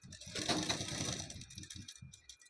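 A sewing machine stitches the cup area of an elbow-sleeve blouse in a short close burst of rapid needle clatter that winds down into a few slower separate stitches.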